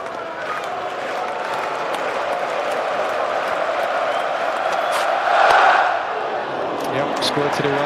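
A cricket stadium crowd cheers and claps steadily throughout, a dense roar of applause that swells briefly near the end, with commentary voices faintly mixed in.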